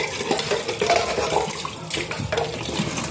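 Tap water runs steadily into a sink while dishes are washed, with occasional clinks and sloshes over the continuous flow.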